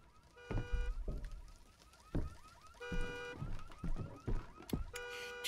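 A loud, blaring alarm in the horror video game Visage, sounding in repeated electronic bursts with pauses between them, accompanied by low thumps and rumbles.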